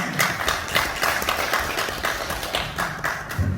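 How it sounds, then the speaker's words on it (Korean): Audience at a 2021 appointment ceremony for district representatives in a Gwangju hotel applauding, a continuous patter of many hands clapping at moderate distance for several seconds. "자, 큰 박수 부탁드립니다."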